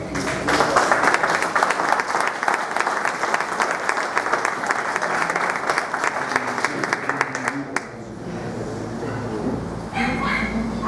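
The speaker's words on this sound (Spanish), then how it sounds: "Por favor, unas palmas." A seated audience claps steadily at a book presentation event, a dense, even wash of hands for several seconds that stops abruptly, followed by quieter room sound.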